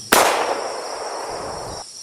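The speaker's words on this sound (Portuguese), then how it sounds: "é neste exato momento que se ouve um grande barulho de tiro" A single sharp gunshot cracks once as a sound effect in a narrated folk story about a hunter, followed by a long ringing, fading tail; no voices.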